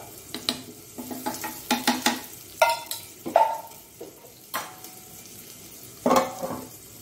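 Dosa fries in ghee on a pan, a steady soft sizzle broken by repeated close scraping and stirring clicks from a spatula, with no voices.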